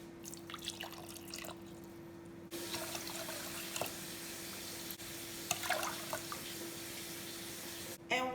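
Water is poured into a pot to make candy apple syrup, three cups for a sugar, water and corn syrup mix; a soft, steady trickle with small splashes and drips runs under low background hum, with no talking.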